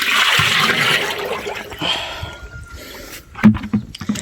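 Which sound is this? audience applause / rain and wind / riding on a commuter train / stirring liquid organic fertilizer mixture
stirring liquid organic fertilizer mixture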